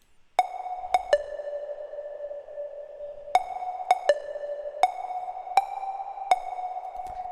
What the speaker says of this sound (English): There's like these little echo plucks.